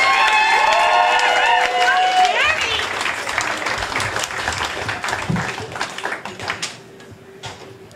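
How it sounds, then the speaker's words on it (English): A crowd bursts into applause and cheering at a romance reading, loud and lively with whoops and scattered shouts, then the clapping thins out into a few lingering claps as voices murmur underneath. "Quick round of applause for Jenny."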